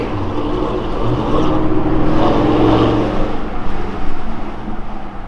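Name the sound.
Corsa exhaust on a 2017 Yukon Denali XL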